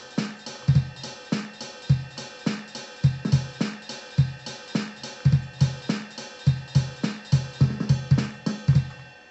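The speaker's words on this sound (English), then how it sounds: "And together with hi-hats, kick and snare sound like this." A glitch hop drum beat plays on its own, with punchy kicks and snares over steady hi-hats in a tight, syncopated repeating pattern. The groove stays loud and even throughout.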